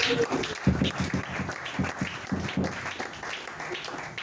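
Church congregation applauding, a dense steady patter of many hands that swells and pulses for several seconds at moderate volume, with faint voices mixed in.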